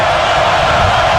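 A football stadium crowd roars during a Texas Longhorns at Florida Gators game, a constant loud wall of voices with no breaks.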